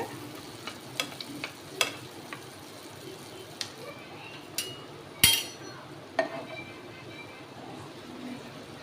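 Appam batter frying in a pan over medium flame for mini bun appam, a soft steady sizzle with scattered light clicks and one sharper clatter near the middle, no talking.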